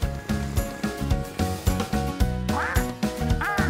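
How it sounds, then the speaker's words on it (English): A cartoon duck quacks in a lively, repeated rhythm, several bright quacks over a bouncy musical backing, loud and close. "That's Dylan the duck."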